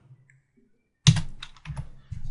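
Computer keys on a keyboard are pressed while working in an Excel spreadsheet: a sharp close clack followed by a few quicker taps in a quiet room.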